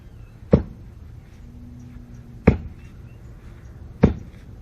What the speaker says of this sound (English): So we'll start with the axe and just see how strong that root is